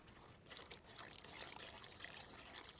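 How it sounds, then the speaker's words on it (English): Wet ingredients for a brunch batter pour steadily into a bowl of dry ones, a soft continuous splashing trickle heard close up and alone, without talk. "now it's just a case of pouring the wet ingredients into the dry"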